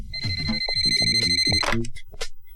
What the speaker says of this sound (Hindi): मदन प्लीज जाके फोन देखना प्लीज